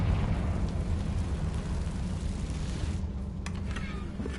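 A Confringo spell explosion in the video game Hogwarts Legacy gives off a loud, continuous roaring blast with a heavy low rumble that holds steady for several seconds before thinning out slightly near the end.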